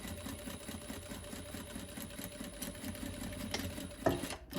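A sewing machine runs continuously while stitching back over a fabric pencil case seam, a steady close rhythmic whirring and chattering with a brief clunk near the end.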